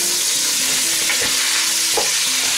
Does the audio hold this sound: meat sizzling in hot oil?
yes